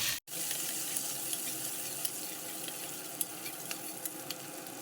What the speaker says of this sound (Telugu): పచ్చిమిర్చిని కొంచెం బాగా ఫ్రై అవనిద్దాము